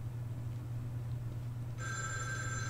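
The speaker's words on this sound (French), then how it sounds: "Le téléphone sonne." A telephone rings in the survival horror video game The Evil Within 2, a bright electronic trill starting partway through over a low droning ambience, no talk.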